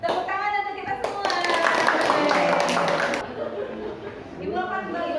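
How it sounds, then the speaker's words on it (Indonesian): A group of teachers in training at a workshop claps together in a short burst of dense applause, with voices, chatter and a little laughter before and after. "Tepuk tangan untuk kita semua."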